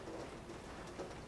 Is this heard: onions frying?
no